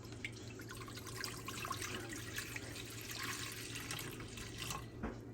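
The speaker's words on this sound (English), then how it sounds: "Put some water in the bottom of our pot here and bring it to a boil." Water pours steadily into a cooking pot to steam Dungeness crab, a continuous close splashing rush lasting several seconds with no voices.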